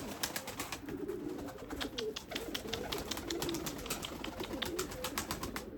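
Several Erzurum White pigeons coo continuously in a coop in low, throaty rolling calls, close by, with many overlapping birds and faint clicks and rustles throughout.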